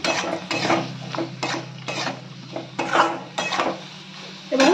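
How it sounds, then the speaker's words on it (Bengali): Eggplant pieces being sautéed with spice paste in a pan for a Bengali begun and bori fish curry, with repeated stirring and utensil scrapes against the pan in an irregular rhythm, close and moderately loud. "বেগুনটা দিয়ে একটু মশলাটা একটু কষিয়ে নেবো।"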